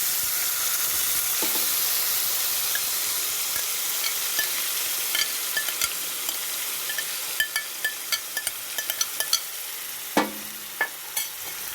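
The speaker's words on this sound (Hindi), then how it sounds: "1 टेबल स्पून ऑयल लेके पैन में इसमें जो मेरा मैरिनेटेड चिकन है मैं इसको ऐड करूँगी" Marinated chicken sizzling in a tablespoon of oil in a pan, a continuous close frying hiss with sharp crackles and spatters growing toward the end, no talking.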